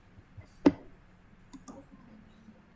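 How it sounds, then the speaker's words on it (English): A single sharp computer mouse click, brief and isolated, followed by a faint second tick about a second later over quiet room noise. "Okay, double click"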